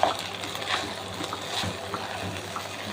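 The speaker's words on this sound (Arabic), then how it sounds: "ننزل بقى بالميه" Water pours steadily into a pot of sautéed meat and onions for a pot kebab with rice, giving a soft, continuous splashing trickle that runs for about three seconds with no voices.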